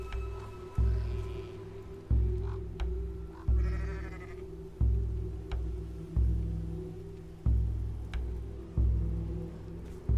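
Repeated sheep bleats sound at a steady rhythm over a low droning hum, with occasional faint clicks and chimes, synthetic and game-like.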